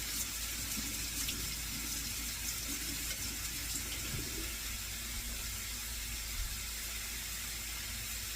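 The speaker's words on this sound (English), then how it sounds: "let me wash my hands" Water runs steadily from a kitchen tap during hand washing, a continuous close hiss with no breaks and no talking.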